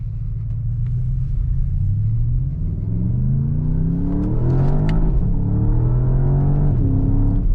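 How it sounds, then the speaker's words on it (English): Porsche Panamera GTS, 2023, climbing mountain hairpins on the Stelvio Pass, its engine heard from inside the cabin as a loud droning rumble that rises and falls through repeated revs and gear changes. "Sport Plus just holds the gears really high, so you're driving along and it's really revving out"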